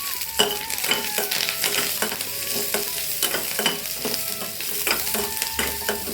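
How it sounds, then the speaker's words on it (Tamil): Onion, tomato and garlic are stirred as they fry for a Chettinad mutton masala, with a close sizzle under rhythmic spoon scrapes and clinks against the pan, and no talking. "வெங்காயம், தக்காளி, வெள்ளைப்பூடி இது எல்லாத்தையுமே வந்து கலக்கிக்கலாம்"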